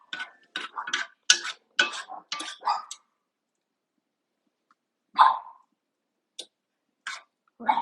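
A pet dog barks in a quick burst of about eight sharp, close barks in a home kitchen, then falls silent before several more isolated barks follow at scattered intervals.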